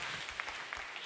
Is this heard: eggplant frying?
no